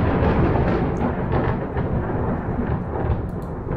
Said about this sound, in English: Man, this thunder is...